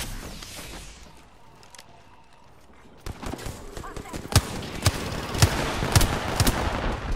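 Rapid video game gunfire from Bloodhound in an online shooter, a burst of sharp shots starting about three seconds in and repeating irregularly, loud and close, after a quieter stretch of ambient noise.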